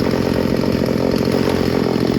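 A Craftsman 16-inch 38cc gas chainsaw runs steadily at close range, a loud continuous buzzing drone with no breaks and no voices.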